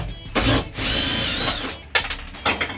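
A power drill whirs in short bursts while loosening the hooks of a Decked drawer system in a Chevy van, with a sustained run of about a second followed by two quick blips, close and without speech.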